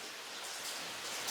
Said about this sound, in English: Now look at the rain.